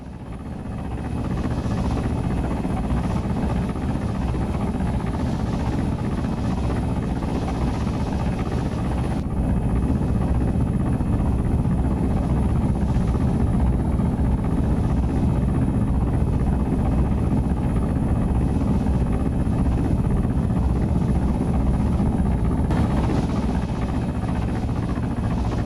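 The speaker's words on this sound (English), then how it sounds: "Is it enemy heli?" An enemy helicopter in a video game drones steadily and loudly throughout, a dense, continuous rotor-and-engine rumble that holds nearly constant, with no talk over it.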